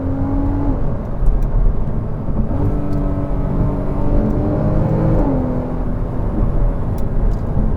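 Porsche Cayman S 981 flat-six engine heard from inside while driving, a steady close drone with rising and falling harmonics as it pulls through gears and shifts, loud throughout with no talking.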